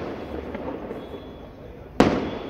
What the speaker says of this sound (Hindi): देखो कितने मस्त बम फूटे